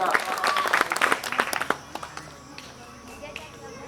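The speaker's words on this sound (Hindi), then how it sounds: "जोरदार तालियों से स्वागत" Audience at an International Yoga Day event in Sitamarhi clapping to welcome a guest onto the stage, brisk close claps fading into scattered taps, with someone speaking over it.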